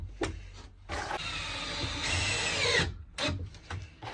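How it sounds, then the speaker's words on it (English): A power drill drives screws into a wooden campervan bed frame, with a few short whirs and one long sustained run, close and fairly loud, separated by brief quiet handling noises. "just putting a couple of screws in just to make sure it all fits together properly"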